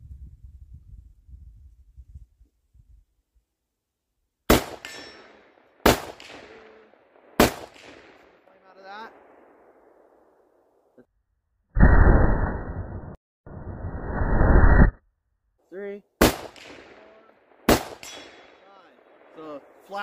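A Zastava ZPAP92 AK-47 pistol with a Midwest Industries muzzle brake fires about five sharp, loud, widely spaced outdoor shots, each ringing briefly, with a pair of loud blasts of noise in the middle and faint talk at the start.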